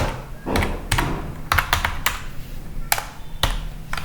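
Keys clack on a computer keyboard as a web address is entered, scattered separate taps and thunks at close range with no voices.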